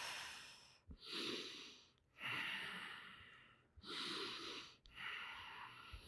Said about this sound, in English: Full breath.